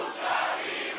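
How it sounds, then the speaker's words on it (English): A wrestling crowd at a lucha libre show roars in a steady, broad wash of cheering that holds for a second without a break. "Well, listen to the crowd"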